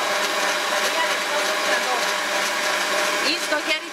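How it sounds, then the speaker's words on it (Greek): An electric mixer beats a mixture at high speed, a steady loud whirring drone that holds for several seconds with little change, voices faintly underneath. "Να το χτυπήσουμε. Να πάει στο μίξερ."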